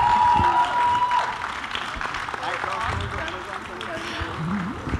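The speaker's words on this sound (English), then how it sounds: "Let's hear a huge round of applause for them." Audience applause at a media event greeting the Amazon family on stage. Steady, moderately loud clapping runs throughout with crowd murmur underneath.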